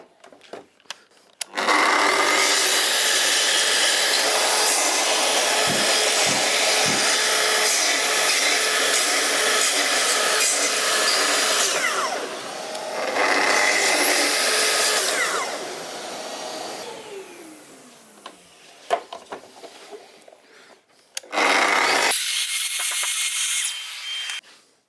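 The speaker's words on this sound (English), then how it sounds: "Back to the saw." Power saw running along a guide rail, cutting wood for a garden trellis, with a long continuous loud whine that dips and swells for about twenty seconds, then a short final burst; close, no talking.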